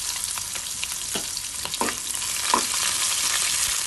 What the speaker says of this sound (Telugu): ఇప్పుడు పోపు వేగిపోయిన తర్వాత ఉల్లిపాయలు, పచ్చిమిరపకాయలు, కరివేపాకు వేసేసుకోవాలి.